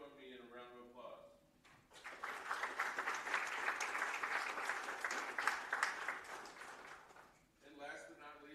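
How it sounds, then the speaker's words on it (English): Audience applause at a university sports awards ceremony for award recipients, a steady wash of many hands clapping for several seconds between stretches of speech at either end. "For the award recipients, please join me in a round of applause."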